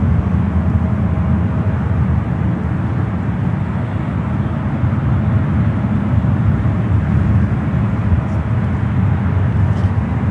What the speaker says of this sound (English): Got a United 777-8 at 300 on the flight heading to Hong Kong, flight 869.